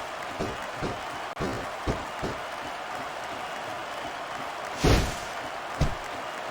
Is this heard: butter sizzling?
no